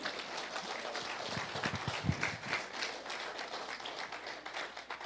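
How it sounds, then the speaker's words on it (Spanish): A church congregation applauds, a spread of many hands clapping at moderate distance in a continuous patter, with a few sharper claps standing out midway. "Dale un aplauso al Señor"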